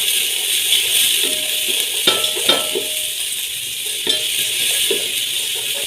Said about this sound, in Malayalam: എന്നിട്ട് നല്ലോണം ഇളക്കി കൊടുക്കുക.